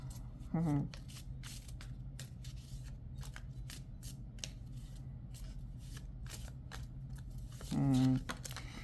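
A small animal-themed tarot deck is riffle-shuffled twice, short crisp bursts near the start and end, with quiet sparse taps and handling noise between.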